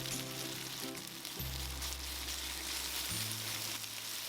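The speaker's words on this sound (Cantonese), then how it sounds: "要喺1分鐘以內將佢其中一面煎到金黃先好將佢反轉" Beef slices sear in a very hot oiled wok with a steady, broad sizzle that stays close and loud throughout, over a low tonal hum, with no talking.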